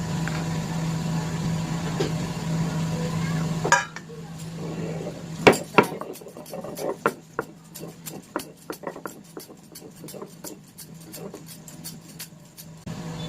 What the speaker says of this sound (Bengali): এবার ভাজা পেঁয়াজ রসুন লঙ্কাগুলোকে বেটে নেব।